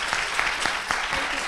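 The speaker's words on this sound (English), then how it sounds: "Can we give them a round of applause?" An audience at an educational talk on engineering and STEAM applauds in a short, dense burst of clapping, steady and moderately loud throughout.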